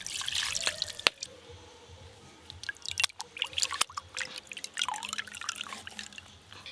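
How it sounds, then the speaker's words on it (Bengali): Water drips and trickles in irregular splashes as washed chhana (cottage cheese) drains, close and fairly quiet, with sharp isolated drops. "এইভাবে খুব ভালো করে ছানা থেকে জল কিন্তু আলাদা করে নিতে হবে"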